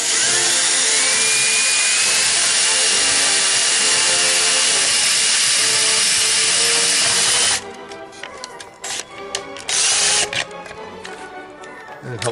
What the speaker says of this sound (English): So we're going to do a 7mm hole right here.